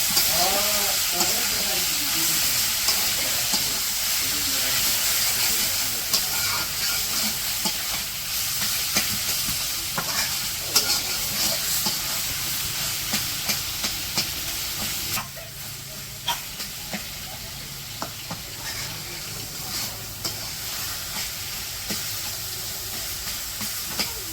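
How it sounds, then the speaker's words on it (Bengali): Leafy greens hit a pan of fried garlic and onion in Bangladeshi village cooking, giving a loud, steady hiss and sizzle with stirring scrapes throughout. "ওই যে রসুন পেঁয়াজ ভাজা হয়ে গেছে এখন শাকগুলো দিয়ে দিলাম"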